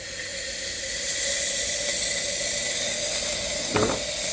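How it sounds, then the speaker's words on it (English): La Pavoni Europiccola espresso machine steam wand releasing a steady, loud hiss that builds after a second and holds, with a brief sputtering burst near the end; no talking. "start steaming."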